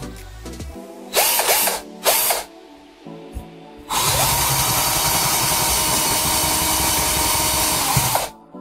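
Power drill boring a bearing hole for a ball mill, with two short spin-ups followed by a long, loud, continuous whine of cutting that stops abruptly.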